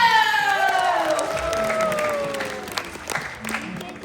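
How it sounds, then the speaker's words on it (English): A crowd at a live science fire show at Science Museum Oklahoma applauds and cheers loudly, with whoops and high shouts riding over steady clapping that gradually thins out. "So one more big round of applause for Fernando!"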